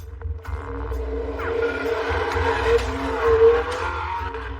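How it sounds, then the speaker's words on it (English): A Porsche zooms across Brooklyn Bridge towards Manhattan, its engine holding a steady, close droning tone that swells slightly as it speeds along, with no talk over it. "Up ahead, the Porsche was on Brooklyn Bridge, zooming towards Manhattan"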